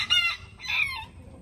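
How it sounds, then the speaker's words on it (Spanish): A Silkie hen forages with her chicks, giving two close, short, bright calls in quick succession over a quiet low background. "acá anda aquella con sus pollitos."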